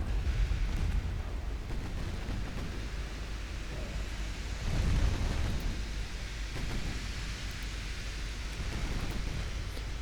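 Warships blowing up in the naval game Ultimate Admiral Dreadnoughts: a continuous heavy rumble of explosions and gunfire, deep and dense, swelling louder around the middle before settling back to a sustained roar, with no voices.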